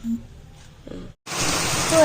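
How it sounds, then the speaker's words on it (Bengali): A short stretch of talk and quiet, then a sudden loud wash of rain falling steadily for the rest. "মাঝে মাঝে বৃষ্টি পড়ছে জোরে বৃষ্টিটা আসছে"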